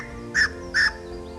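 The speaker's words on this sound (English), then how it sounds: "there are many birds flitting about and singing" Two short, harsh bird calls ring out in quick succession over a quiet, faintly humming background.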